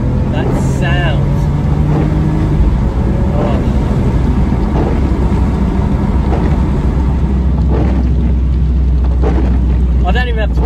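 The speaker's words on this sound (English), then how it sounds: "I just let this car sing its engine out." A BMW M3 E46 with an SMG gearbox revs hard while accelerating, a loud, continuous engine roar heard from inside the cabin with rising and falling pitch as it pulls through the gears.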